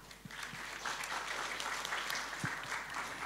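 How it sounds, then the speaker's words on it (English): Seminar audience applauding panelists after a discussion on women's participation in Indonesia, a moderate, even wash of many hands clapping from a room at mid distance, steady for the whole stretch without talk. "Please give them a warm applause."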